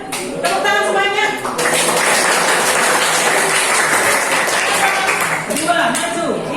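Classroom of students clapping together for a group after a chemistry answer, a loud dense burst of applause lasting several seconds, with voices heard at the start and end.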